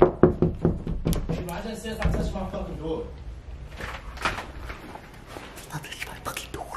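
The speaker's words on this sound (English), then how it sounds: "stop touching my fucking door" A quick series of loud, close knocks on a door, followed by rattling and handling noises while people talk and whisper nearby.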